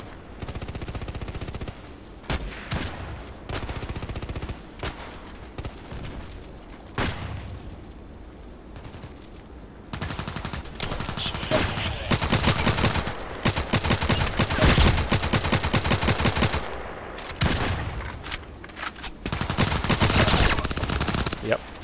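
Rapid bursts of gunfire from the online shooter Contract Wars land as headshots, loud automatic volleys and single cracks repeating through the scene with short quiet gaps between clusters.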